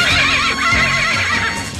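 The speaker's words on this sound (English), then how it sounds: "Maybe their neighing will wake her at last." Cartoon winged horses neigh and whinny loudly in a continuous overlapping burst, a few faint hoof clops mixed underneath.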